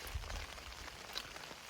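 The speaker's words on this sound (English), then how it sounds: "It's been raining all day" Rain falls steadily on a tent at a windy Alaska caribou hunting camp, a dense, even patter close overhead with no talking.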